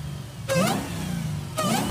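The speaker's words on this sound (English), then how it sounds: "Sound like a Hellcat to me." A Hellcat Hemi V8 swapped into a Nissan 350Z rumbles steadily at idle, broken by two sharp revs that rise and fall about a second apart, close and loud.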